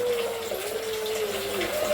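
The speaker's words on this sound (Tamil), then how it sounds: "தேவையான அளவு தண்ணி ஊற்றிக்கலாம்." Water pours into a pot of vegetable rice, a continuous close gurgling stream that holds steady for a couple of seconds with no talk.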